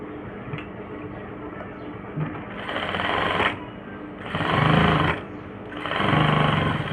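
A sewing machine stitching a garment neck runs in three steady whirring bursts that grow louder, each separated by short pauses, close and mechanical with no voice over it.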